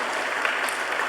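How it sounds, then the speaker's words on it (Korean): A church congregation claps steadily during a Sunday worship service, welcoming a member honoured for a Bible exam; dense, even applause fills the room with no pauses. "우리 김찬호, 우리 크게 박수로 환영해 주시기 바랍니다."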